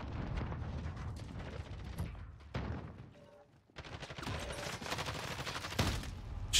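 Shotgun blasts and rapid gunfire in a Call of Duty Modern Warfare Warzone match, several loud bursts with a brief lull in the middle, layered with game effects and a player talking over them.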